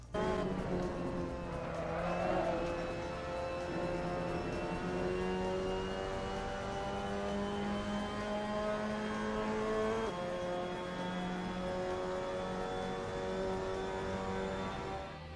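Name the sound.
Mazda MX-5 Cup racing at Red Bull Ring, Assetto Corsa video game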